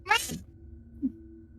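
A person imitates a cat with a single short, high, nasal meow at the start, followed by a faint brief vocal sound over a quiet background hum.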